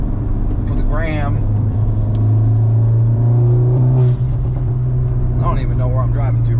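Revving exhaust of an MK8 Golf R fitted with a DBV2 4-inch downpipe, a loud steady drone with rising and falling pitch sweeps, while people talk over it inside the car.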